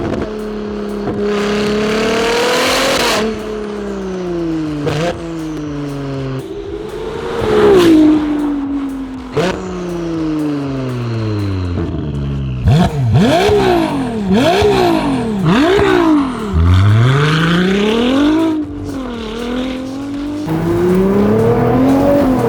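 A Ferrari 296 GTB's titanium exhaust roars and revs repeatedly, pitch sweeping up and down through gear changes, loud and close, with sharp bursts between pulls.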